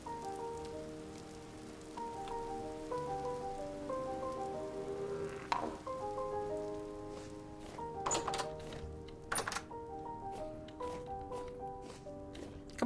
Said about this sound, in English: It's raining down here.